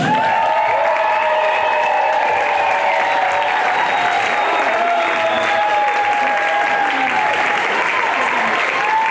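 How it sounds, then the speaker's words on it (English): A crowd at a public talent show in Hawaii applauds loudly and continuously, with whoops and cheers rising over the clapping throughout. "let them know it through your noise, energy, and applause"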